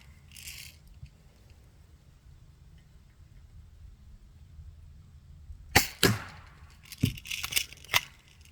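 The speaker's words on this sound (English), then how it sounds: "I believe that was a dry fire there." A Daisy Winchester #12 pump-action air gun is dry fired indoors, giving a short sharp mechanical snap followed by a few clicks and clatters of the action, close and fairly quiet.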